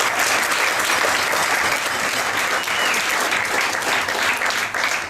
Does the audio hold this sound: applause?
yes